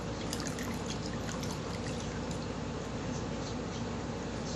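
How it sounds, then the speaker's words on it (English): Clean water pours steadily in a continuous splashing trickle, close and fairly quiet, with no talking over it. "Let me get me some clean water."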